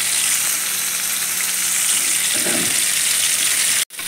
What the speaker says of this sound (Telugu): చింతకాయ ప్లస్ టమాటో బాగా వేగిపోయింది